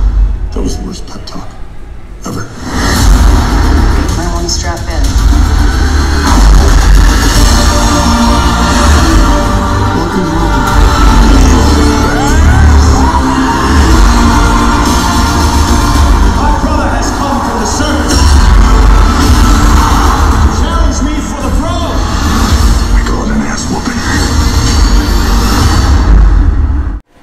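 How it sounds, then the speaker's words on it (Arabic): A Samsung T450 sound bar plays loud movie audio with dialogue, music and action effects in a dense, continuous mix, the film's voices talking throughout. "وده كان صوت الساوند بار."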